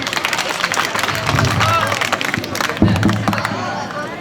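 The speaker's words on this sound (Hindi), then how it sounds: "इस मैसेज के लिए भी आप ताली बजाएं" A school audience at an annual function claps and cheers in a loud, dense burst that swells and carries on under a speaker's voice and crowd babble.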